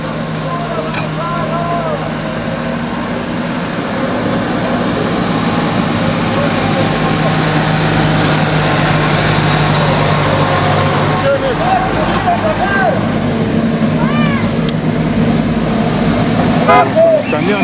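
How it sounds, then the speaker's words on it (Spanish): Trucks carrying fighting bulls arrive in a convoy, with steady engine rumble and several short horn toots rising over the traffic noise, fairly loud and close throughout. "Ahí vienen los camiones."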